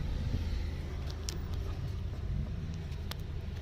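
A Renault Megane 2 engine idles steadily after a complete rebuild, a low continuous rumble with a faint, even hum and no talking.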